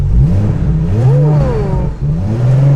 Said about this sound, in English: But rev it up, see what you think, see what it sounds like.